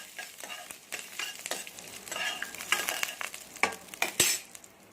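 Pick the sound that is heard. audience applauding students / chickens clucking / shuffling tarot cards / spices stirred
spices stirred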